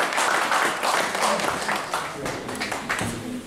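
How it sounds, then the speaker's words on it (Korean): Close applause from a crowd at the opening ceremony of Seo Gi-beom's 10th solo exhibition in 2019 rises into a dense patter of clapping for several seconds, with a voice talking over it. "자, 박수 부탁드리겠습니다"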